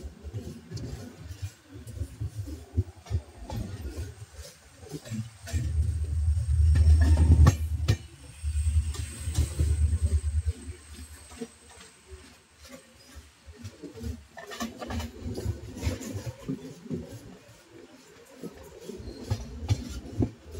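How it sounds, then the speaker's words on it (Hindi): A passenger train runs slowly through Pingli railway station, with a continuous low rumble of wheels on rails, rhythmic clacking and swelling, heavier rolling noise partway through, heard from on board and close. "हमारी ट्रेन को पिंगली रेलवे स्टेशन से स्लोली स्किप किया जा रहा है।"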